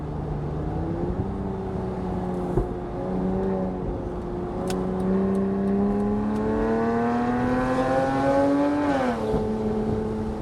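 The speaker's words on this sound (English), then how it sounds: "Downshift to second." Porsche 987/997 flat-six engine downshifting to second gear with a paddle shifter: a steady engine drone climbs in pitch, then drops sharply with a blip near the end, heard close and without talk.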